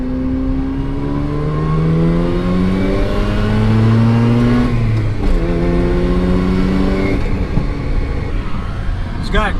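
A 1995 Mazda RX-7 FD with its stock 13B twin-turbo rotary engine revs up and down repeatedly from inside the car, close and loud, with someone talking over the engine.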